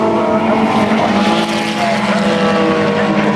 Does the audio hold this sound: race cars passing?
yes